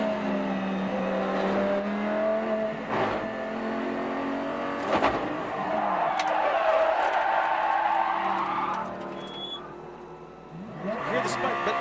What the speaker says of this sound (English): Looks like the car spun on track, and then they had a hard time finding a gear.